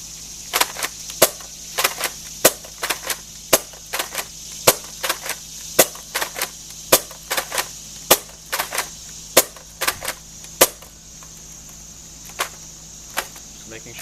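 A Vanilla Ice Recon Mk II toy dart blaster fires repeatedly from a 10-round banana magazine, giving sharp close pops with short cocking clicks between, spaced roughly half a second to a second apart, with a faint steady hum underneath.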